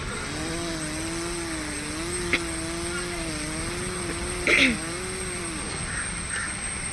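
A mimicry artist voices the sound of a chainsaw cutting a tree, a steady wavering buzzing drone that holds for several seconds close to the microphone, with a brief burst of extra noise near the end.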